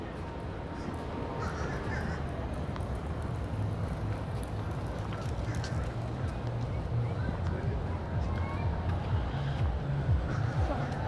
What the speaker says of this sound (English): Hopefully you heard the seagulls doing the mine thing.